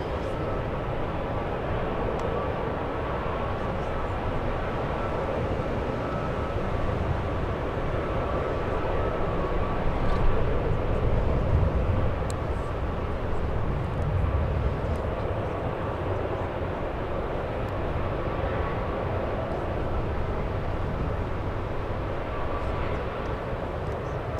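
Large airliners, including long-haul heavies, approach San Francisco International Airport, producing a continuous low jet roar that swells slightly midway and holds steady throughout.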